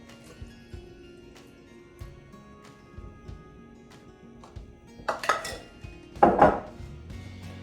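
Shredded carrots and chopped green onions tipped into a pot of dumpling soup, landing in two short clattering bursts with a few light knocks against a quiet kitchen background.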